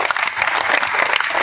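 An audience applauds at a Bhojpuri Birha folk-singing performance, a loud, dense burst of clapping that fills the short stretch from start to finish.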